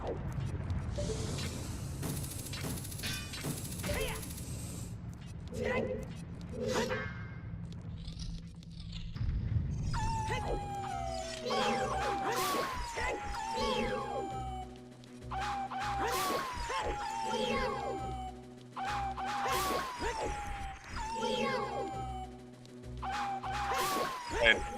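Dogs in an Ocarina of Time randomizer bark in a string of short, repeated yips alongside other game sounds, growing busier in the second half.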